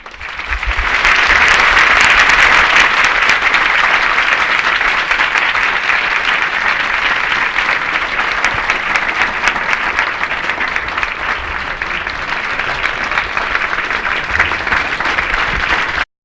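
A crowd at a Hindu devotional singing gathering claps loudly and steadily, a dense sustained wall of applause lasting the whole stretch before cutting off abruptly.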